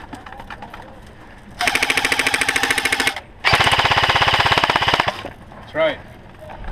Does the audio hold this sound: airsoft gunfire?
yes